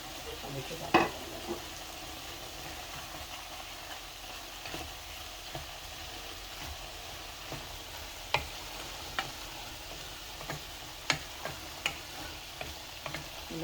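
Snake gourd curry with green chilies sizzles softly in a pan while being stirred, a low steady frying hiss broken by faint scattered clicks and scrapes of the spoon.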